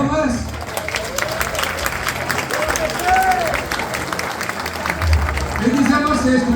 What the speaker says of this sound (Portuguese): Eu peço a vocês uma salva de palmas para a ABC, palmas!